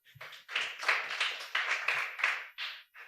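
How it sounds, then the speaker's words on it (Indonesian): Quick, rhythmic clapping for God in a church service, a short run of close, bright hand claps in steady bursts with small gaps, fairly soft overall. "Ya tepuk tanganlah untuk Tuhan."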